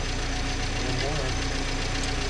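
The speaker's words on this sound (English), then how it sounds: "That fan was spinning a lot faster than it was before." A 1979 Datsun King Cab engine runs at idle with its radiator fan spinning, a steady close rumble with a rough, knocking pulse throughout the short stretch.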